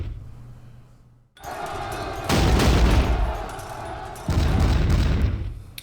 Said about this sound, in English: That's actually a gunfire